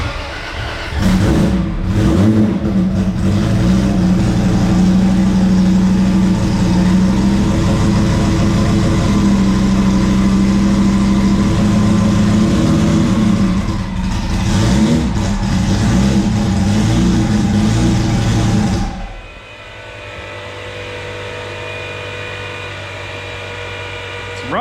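A Chevrolet Camaro engine fires up and runs loud and close, a deep rumbling idle with rising revs, then drops to a quieter steady idle near the end, with no voices over it.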